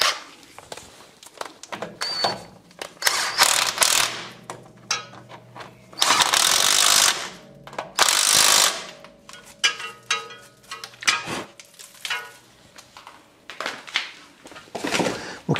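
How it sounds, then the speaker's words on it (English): A ratchet wrench clicks in rapid bursts while running two bolts into the top of the swivel housing on a Land Rover Defender, close and loud with pauses between spells of turning. "We just need to run those two bolts back into the top of the swivel house."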